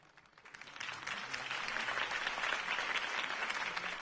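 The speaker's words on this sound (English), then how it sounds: "If only Mr. Wayne, my campaign's largest backer, could have heard that applause" A crowd in the Batman Telltale video game breaks into applause, swelling quickly from quiet into sustained, dense clapping that holds steady for several seconds.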